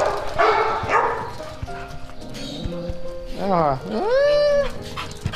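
Dogs at a house at night bark and whine in short excited bursts, close by, mixed with someone speaking.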